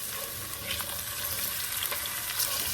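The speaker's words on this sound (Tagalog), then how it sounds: "kailangan i-prito siya ng konti" Chicken pieces for caldereta sizzle in hot oil in a pan, a steady, fairly quiet crackle with occasional sharper pops and no talk.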